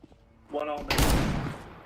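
Gunfire from the Counter-Strike video game crackles in a short, loud burst at a professional CS Asia Championship match, with a brief voice just before it.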